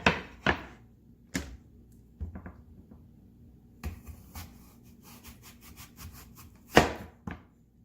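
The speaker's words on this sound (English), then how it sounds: "I'm going to go ahead and cut the apple" A knife cuts an apple for a fruit dip with sharp, crisp chops, a few spaced strikes and then a quick run of light slicing taps ending in a louder cut.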